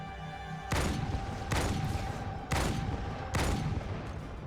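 Halo 2 gunfire comes in four bursts of rapid automatic shots, each lasting about half a second, set against steady game background noise.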